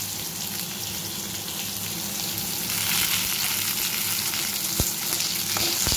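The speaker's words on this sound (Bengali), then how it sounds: "আমি একটু কম তেলেই এটাকে ভেজে নিচ্ছি" Food frying in a small amount of oil with salt, a steady close hiss and crackle that grows slightly louder midway, with a couple of sharp clicks near the end.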